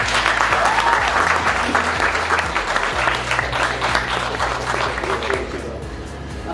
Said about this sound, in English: give Chase one more round of applause